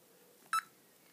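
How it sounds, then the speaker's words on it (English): Gogo V brace, a Kyukyu Sentai Gogo V transformation toy, gives one short electronic beep, a brief bright tone standing out alone from quiet background. "every time you don't do anything, it makes a beep sound"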